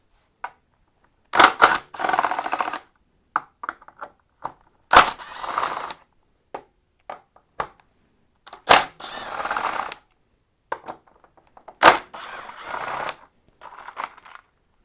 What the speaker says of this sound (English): now we can remove the 4 T30 bolts that hold the whole windscreen mount in place